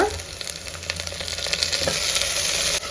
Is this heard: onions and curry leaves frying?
yes